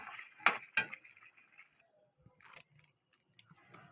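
Metal spatula stirring chicken and potatoes in a cooking pot, heard as a few sharp scrapes and clinks, with two louder knocks early on and then sparser quiet taps.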